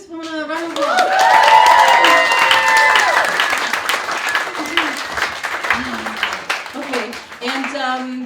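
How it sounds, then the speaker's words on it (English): Audience at a comedy show at the Reykjavik Fringe 2021 clapping for a performer, a warm burst of applause rising quickly, peaking, then thinning out as a voice talks over the tail end. "Give this woman a round of applause."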